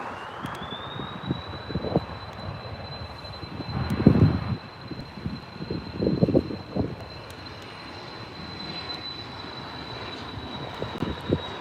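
A Ryanair airliner climbs overhead near Leeds Bradford airport, a steady engine whine holding outdoors for the whole stretch, with louder rumbling gusts and wind buffeting around the middle.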